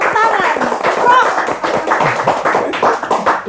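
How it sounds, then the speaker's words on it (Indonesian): A crowd claps in a dense burst of applause, steady and fairly loud, with voices mixed in beneath the clapping. "Tadi baru boleh tepuk tangan."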